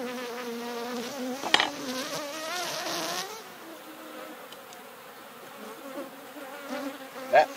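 Honey bees buzz steadily inside a horizontal beehive opened after winter, a dense close hum with a few brief louder bursts and knocks as frames are handled.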